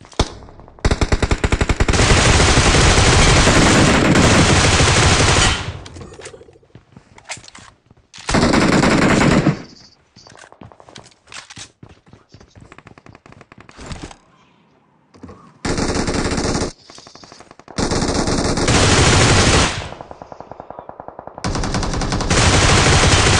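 Gunfire in PUBG bursts out in long, loud automatic volleys, separated by short gaps and quicker sputters of single shots, all harsh and close, with no voices over it.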